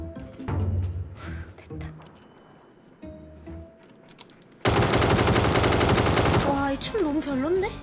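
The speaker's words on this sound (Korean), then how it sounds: "그 총소리가 너무 구려." Automatic gunfire in a shooter game breaks out as one dense, loud burst of about two seconds midway, after quieter scattered in-game sounds, with a voice talking afterward.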